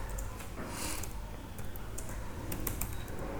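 Typing on a computer keyboard in a Python shell: soft, rapid key taps scattered through the stretch, fairly faint beneath a steady background hiss and low rumble, with no speech.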